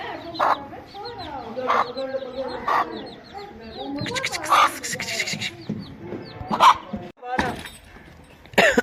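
A mother hen clucks and chicks cheep nearby in a Pakistani village, with several sharp louder squawks breaking through while a person talks over the birds.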